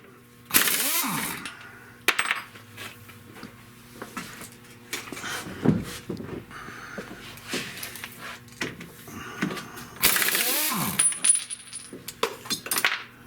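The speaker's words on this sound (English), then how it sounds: "The other one fell off already. You probably heard it hit the ground." A metal washer drops off a 1970 Buick Wildcat's upper A-arm during suspension work and strikes the ground, giving two sharp ringing metallic clinks a few seconds apart, with light tool handling in between.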